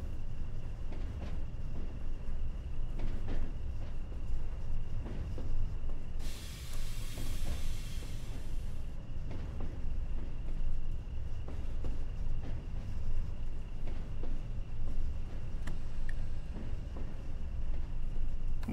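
A British Rail Class 20 locomotive hauling 1989 Rail Freight in Train Sim World runs with a steady low rumble and rail clatter, and a burst of air hiss from the brakes partway through.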